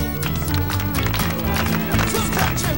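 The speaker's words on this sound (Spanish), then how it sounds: "Aplausos." Game show studio audience clapping on cue, a steady, close patter of many hands running throughout, mixed with loud show music and a host's voice.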